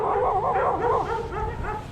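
Several dogs near a beach hiking trail on Saipan give close, excited yips, whines and short barks in quick overlapping bursts. The sound is continuous and fairly loud with no talk.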